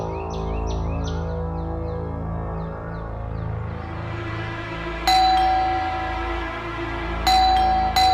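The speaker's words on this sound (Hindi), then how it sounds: "घंटी बज रही है।" A two-tone doorbell chimes twice, bright and clear, about two seconds apart, over a steady indoor background hum with faint chirping tones at the start.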